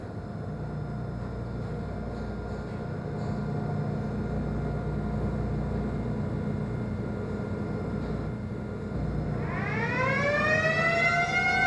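A ship's machinery alarm sounds over a constant low engine-room drone, a rising wail that climbs sharply near the end and holds loud above the machinery hum.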